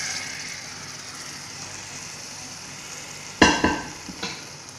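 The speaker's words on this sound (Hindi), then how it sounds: "अब इसके अंदर हम जो साग है वो हम सारा इसके अंदर डालेंगे।" Mustard greens tipped into fried masala in a pan, a steady low sizzle followed by a sudden burst of crackling and a few scraping stirs near the end, close up and without talk.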